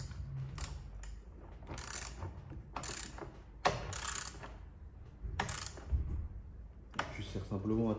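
Wrench ratcheting as the nut on a Volkswagen car battery terminal is tightened, several bursts of quick clicking spread across the clip, close by, with a voice also heard.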